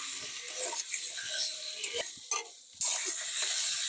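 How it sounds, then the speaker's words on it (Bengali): Taro stems and shrimp sautéing with spices in a pan over low heat, giving a steady soft sizzle with a few faint scrapes and clicks, close and alone. "এই যে কষিয়ে নিচ্ছি বেশ কিছুক্ষণ, আর এটাকে আমি কিন্তু হালকা আঁচে কষিয়ে নিচ্ছি"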